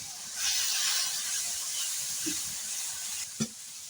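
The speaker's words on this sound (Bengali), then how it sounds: "আদা বাটা রসুন বাটা ভালোভাবে আমি মিক্সড করে ভেজে নিলাম" Ginger and garlic paste fries with spices in a pan, giving a steady close sizzle and hiss, with a brief stirring clatter near the end.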